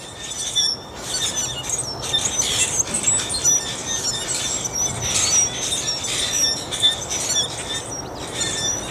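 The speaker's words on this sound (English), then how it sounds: "All kinds of birds stop by." Morning outdoors with many birds, including doves, chirping and whistling in repeated high calls over a steady hiss of ambient noise, some near and some farther off, with no talk.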